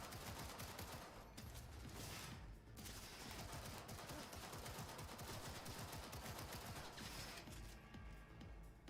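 Rapid automatic gunfire from a video game, a dense continuous burst of shots that rattles on for the full stretch, loud and close, with no talk over it.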